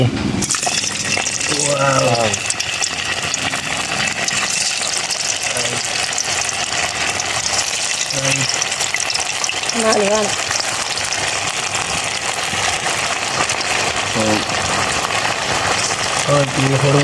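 Rava vada sizzle and crackle in hot oil, a loud, continuous frying hiss throughout, with people talking intermittently over it.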